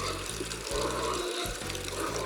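Water runs steadily through freshly laid pipes feeding nipple drinkers in a sow farrowing pen, a continuous close hiss and rush with a low pulsing undertone, with no voices.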